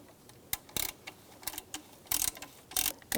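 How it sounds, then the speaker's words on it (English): Ratchet clicking in short bursts while a belt tensioner is tightened on a 2004-2009 Subaru Outback, quick close metallic ticks separated by brief pauses, with no talk. "Now we're going to tighten this one."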